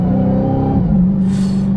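A 2023 Dodge Hellcat pulls hard, its loud engine note rising and then dropping as a gear shift hits just under a second in, followed by a sustained high roar and a short burst of hiss.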